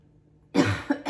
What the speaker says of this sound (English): excuse my cough, my allergies are showing